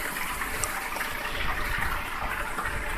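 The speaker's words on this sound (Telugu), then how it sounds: "గుడి దగ్గర కూడా వాటర్ ఫాల్స్ ఉంది." A waterfall flows near Punyagiri temple, a continuous broad rushing roar of falling water, steady and fairly close, with no voices.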